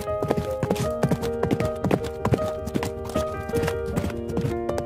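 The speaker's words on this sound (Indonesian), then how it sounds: "kembali menunggang kuda untuk berkeliling ke kota-kota di Levant" A ridden horse's hooves clip-clop in a steady, close, repeating rhythm over a faint sustained tonal background, with no speech.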